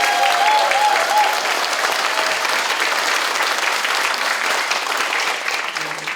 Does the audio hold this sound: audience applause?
yes